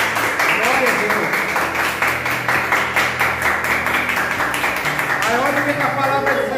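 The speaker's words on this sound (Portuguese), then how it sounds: "Dá uma salva de palmas para Jesus" A church congregation claps for Jesus in a steady, dense round of applause that fills the room, with a preacher's voice and singing-like tones carrying on over it throughout.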